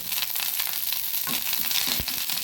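Curry leaves crackle in hot oil for a coastal Karnataka jackfruit-seed dish, a dense, bright hiss with sputtering pops throughout, close and unbroken, with no voices.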